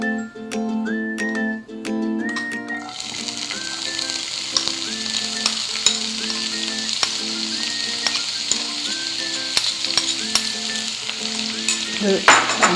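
Cooking oil sizzling as it heats in a pan, a steady crackling hiss that swells from about three seconds on, with background music playing throughout.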